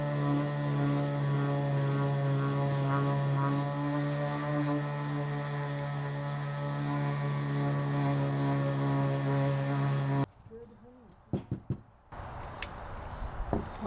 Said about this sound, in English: I could hit them with the sander to get most of the top surface off.